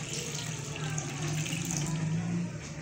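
Water pours steadily into a cooking pot for pumpkin halwa, about three cups going in as one continuous, fairly close stream with no talking.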